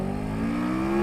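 A CF Moto 650 MT motorcycle engine revs steadily and builds in pitch while being pulled through the gears, a continuous mid-range drone heard up close with no talking.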